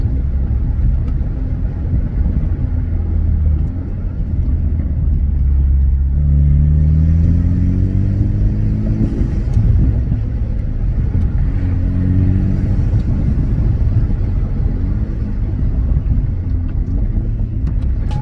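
A BMW with an AWE exhaust in sport mode runs a deep, loud idle rumble, swelling through a couple of throttle blips and revs before settling back to a steady burble.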